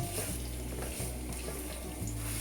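Wheat gluten cubes fry in a little peanut oil in a nonstick wok, giving a steady, close crackling sizzle over a low, constant hum.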